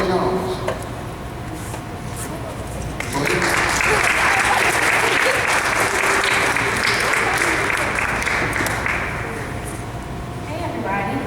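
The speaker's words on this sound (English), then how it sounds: "y'all give her another round of applause" Sustained applause from an audience at a Children's Grief Awareness Day gathering in Northeast Ohio, swelling loud and dense in the middle before tapering, with some voices mixed into the crowd noise.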